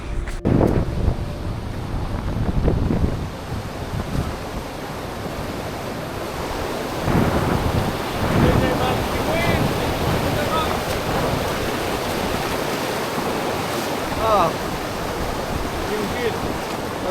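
A river crossing during the Steall Marathon, a Scottish mountain race, brings a loud, continuous broadband rush of flowing water, heavily mixed with wind buffeting on the microphone, with a few brief surges.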